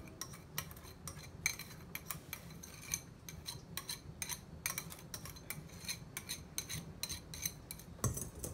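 A utensil mixing ice cream ingredients in a bowl, heard as faint, quick, irregular clinks and taps of metal against the bowl, close by and alone.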